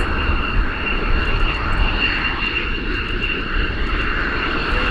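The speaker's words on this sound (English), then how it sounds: "here you see those F-16s taxiing out, and they headed straight off for the Mach Loop" F-16 fighter jets taxi out on an airfield, a loud, steady engine roar with a high whine above it that holds for the whole stretch, with no voices over it.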